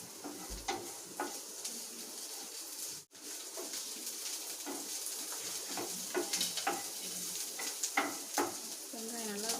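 Two cut onions frying in oil in a pan as a child stirs them for noodles, a soft continuous sizzle with scraping stir strokes, and faint pigeon cooing in the background.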